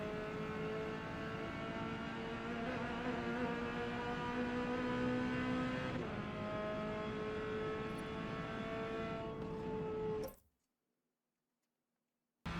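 Race car lapping a track in the Forza racing game, its engine a steady loud drone with shifting pitch for about ten seconds before cutting abruptly to silence.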